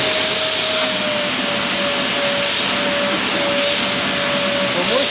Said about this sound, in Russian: Первую турбину. Есть. Одна турбина работает. Вторая турбина. И 3-я турбина.